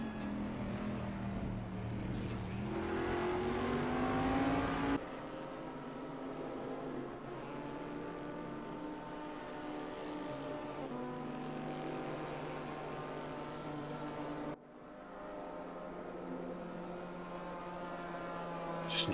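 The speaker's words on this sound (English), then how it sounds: "Just enjoy the sounds of those engines for a little bit here." Race car engines at Spa in a racing video game, a steady sustained drone of several engines with shifting pitch and a gear change partway through, fairly quiet and without talk.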